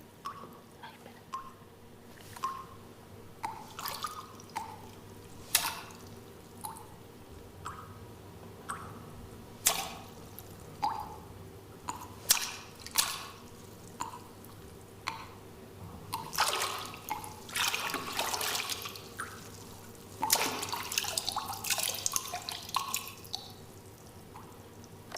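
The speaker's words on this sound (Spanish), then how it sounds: "es ella la que va manipulando el agua" A Foley artist works water on a theatre stage, making a steady run of small drips and splashes that thicken into busier wet sloshing toward the end, close and fairly quiet with no voices.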